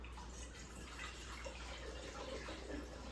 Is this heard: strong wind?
no